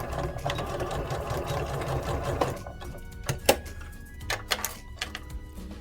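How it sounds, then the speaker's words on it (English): A sewing machine back stitching over a seam on an activity quilt, a fast mechanical rattling run that breaks into short bursts and a few sharp clicks, close and fairly loud, with no talking. "I'm going to go back, and I'm just going to back stitch on top of my stitching to lock the stitching there."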